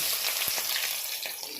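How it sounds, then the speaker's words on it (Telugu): Washed leafy greens fry in a tempering of oil, a soft steady sizzling crackle with a few faint pops, heard close and alone. "ఆకుని నీట్‌గా కడిగి తాలింపులో వేసుకున్నాం."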